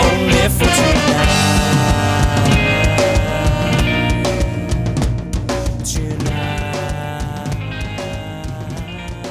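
A band plays a ska-tinged rock song with dense guitars, bass and drums driving a steady upbeat rhythm, loud and full throughout before easing slightly toward the end, no speech.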